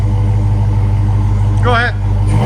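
Dodge Challenger SRT Hellcat fitted with a Black Widow exhaust idling, a loud steady low rumble that runs the whole time while a voice briefly cuts in.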